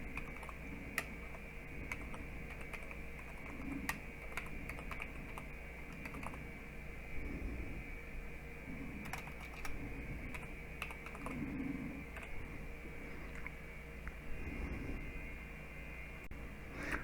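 Typing on a computer keyboard: steady, close key clicks in irregular runs over a constant electronic hum, with no speech.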